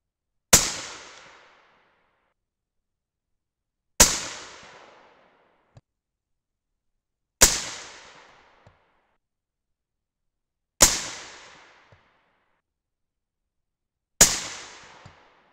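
Five sharp 6.5 Creedmoor rifle shots fired with Winchester WSR primers, evenly spaced about three seconds apart, each a loud crack with a short decaying tail, outdoors with no talk.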